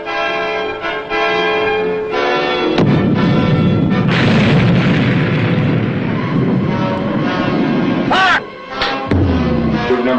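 Submarine torpedo launch sound effect from a TV show: a tonal, ringing alarm-like hum gives way to a loud rushing, roaring blast that sustains for several seconds, then cuts briefly and resumes with tonal bursts.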